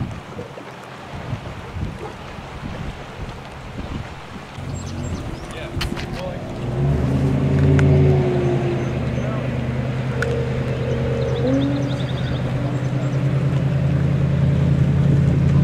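A fast fishing boat speeds across Lake Superior, its engine surging from a lower rumble into a loud, steady roar with wind and water rush, heard from on board.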